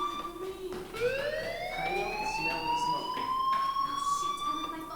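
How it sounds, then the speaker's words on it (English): Fire alarm in the game Life is Strange, a loud rising electronic siren-like wail that sweeps upward and holds, sounding steadily throughout. "do you hear that fire alarm? That means you should be outside"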